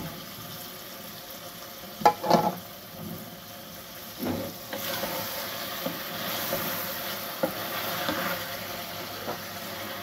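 Lamb karahi meat fries in a pan with a steady sizzle and a few louder bursts of stirring and scraping, close by with no voices.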